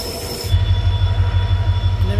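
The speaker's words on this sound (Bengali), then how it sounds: "আস্তে আস্তে ট্রেন এখন লাটাগুড়ি স্টেশনে" A train rolling into Lataguri station gives a loud, close, rumbling rhythm of wheels over the track joints, with a steady high squeal from the wheels running over it.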